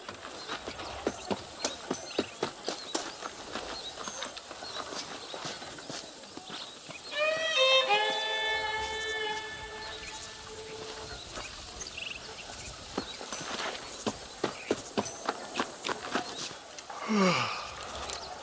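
Horse hooves clip-clop at a steady walking rhythm in Red Dead Redemption, soft and continuous, with a harmonic chime and a brief swoosh in the middle of the stretch.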